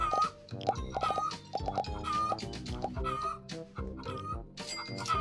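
Chickens cluck on a farm in a video game, with repeated short clucks and squawks in busy bursts over cartoonish background music, along with a few other animal-like calls.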